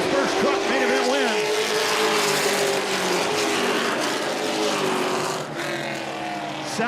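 Racing trucks in a CTS Affordable 250 event accelerating hard out of a corner, their engines roaring loud and rising in pitch as they pass, with an announcer's voice talking over the noise.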